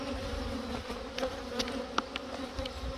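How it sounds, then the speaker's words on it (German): Honey bees hum in a continuous, moderately loud drone inside an open hive during a colony inspection, with occasional light clicks and taps of frames over the buzz. "die Bienen bewegen sich"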